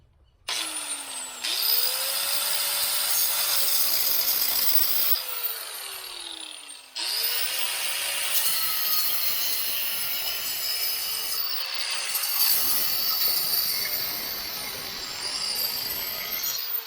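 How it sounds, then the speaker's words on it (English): An angle grinder's cutoff wheel cuts through a broken metal chair in two long passes, its whine loud and steady, dipping briefly as the wheel lifts off before biting again. "Just a cutoff wheel like this and go around it like that."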